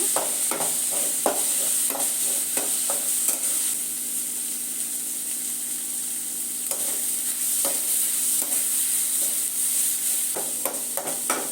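Tomatoes sizzle steadily in a hot pan while a spatula stirs them, scraping taps coming in loose clusters over the continuous frying hiss, close by.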